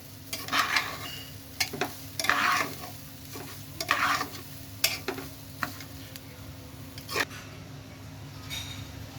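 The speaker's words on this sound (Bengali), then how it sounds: "এখন সুন্দর করে আরেকটু ভেজে নেব মশলাগুলো।" Spices and green chillies frying in oil for vegetable khichuri, an even sizzle punctuated by several distinct bursts of a spatula scraping and stirring, close and fairly loud.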